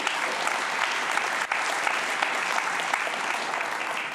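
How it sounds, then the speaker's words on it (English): A conference crowd at a New Zealand horticulture event claps loudly and steadily for a welcomed rugby guest, forming a dense, even wash of applause throughout. "Keep clapping for yourself, mate."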